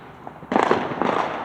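Fireworks bursting at a Florida firework show, a faint pop followed by a sudden loud, crackling explosion and a second burst, heard from a short distance with no talk.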